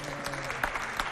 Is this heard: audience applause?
yes